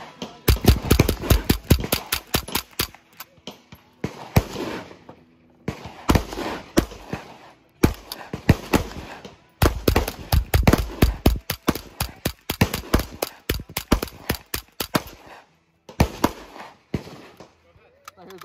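Rapid sharp cracks of Ruger 10/22 rifle fire on an outdoor range, loud bursts of quick successive shots separated by short pauses, with some voices in the background.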